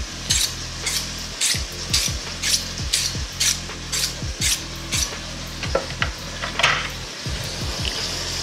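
Mahi mahi with mixed vegetables sizzles in a pan while a utensil repeatedly scrapes and stirs, giving rhythmic close scraping strokes over a steady frying hiss.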